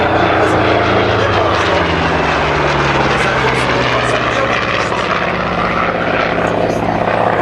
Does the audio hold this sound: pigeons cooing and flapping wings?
no